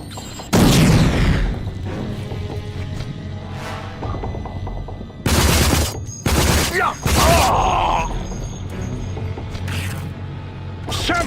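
Grenade blasts in the shooter game RAGE, several loud booming bursts in quick succession amid ongoing gunfire and clanking game noise, with shouted combat chatter around them.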